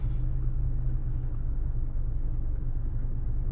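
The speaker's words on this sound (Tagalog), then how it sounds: "Na-stuck na ako sa traffic." A car sits in road traffic, giving a low, steady engine rumble heard from inside the cabin, with no voices.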